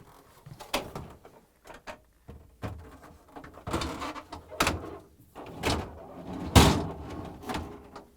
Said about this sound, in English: Now we can close the freezer door